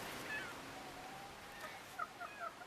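Hens leaving a chicken coop for the first time in spring give a few faint, soft clucks and chirps against a quiet outdoor background.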